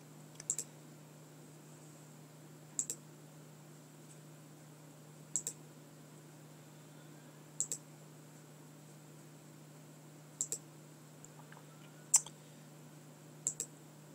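Sharp computer mouse clicks sound at irregular intervals of a couple of seconds, quiet and close over a steady low electrical hum.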